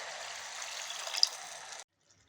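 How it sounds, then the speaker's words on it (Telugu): Water poured into a cooking pan for boiling, a soft steady splashing stream for under two seconds before stopping. "వాటర్ పోస్తున్నానండి ఉడకడానికి"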